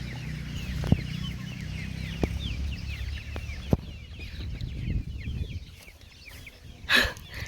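Chickens cluck and murmur close by in a rural yard, a busy, continuous chatter of short calls with a few sharp knocks and a louder burst near the end.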